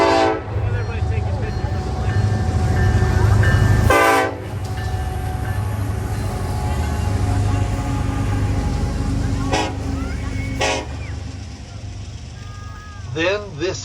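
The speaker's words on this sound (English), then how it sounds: "The eastbound freight began slowing down and for some reason came to a stop right where the big boy was going to be upon arrival" An eastbound freight train rumbles past loudly and steadily near the depot in Morgan, Utah, with sharp horn blasts and a squealing screech of brakes as it slows, and people talk nearby.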